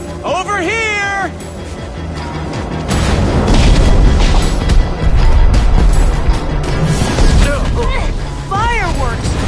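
Fireworks boom and crackle in the Minecraft Story Mode video game, a loud rumbling burst of explosions under cat-like meowing and yowling sounds and game voices.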